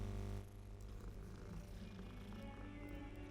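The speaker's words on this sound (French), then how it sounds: "Je fais un câlin au chat maintenant." A cat in the Hogwarts Legacy video game purrs while being petted, a soft, steady, continuous rumble heard close and alone, very quiet overall.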